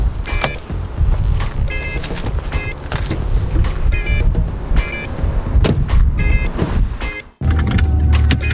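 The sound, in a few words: Maserati car driving on new Michelin tires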